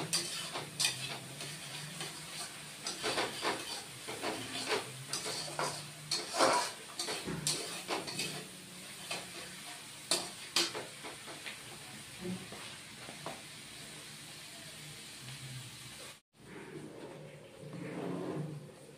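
Spice paste for a bata fish curry fries quietly in a pan, its soft sizzle broken by repeated scraping stir strokes and clacks, then a brief pause before the frying resumes.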